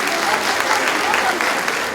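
Audience applause at a prize-giving and closing ceremony, a continuous dense burst of clapping that fills the whole moment, fairly loud and close, with some voices mixed in.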